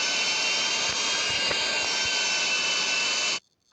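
A plane's jet engine roars steadily during takeoff in GTA V, a loud, constant whine and rush that cuts off abruptly near the end.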